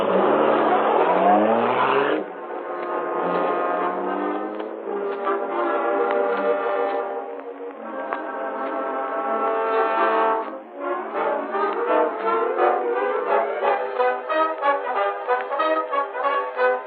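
The Black Beauty car pulls away in an old-time radio drama, its engine sound loud and sustained, rising in pitch as it accelerates with a steady, tonal roar throughout.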